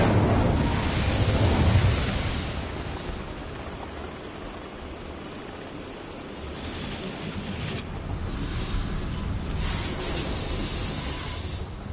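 An Incendio fire spell bursts in Hogwarts Legacy with a loud, broad roaring whoosh. It peaks early, eases off, then swells again toward the end.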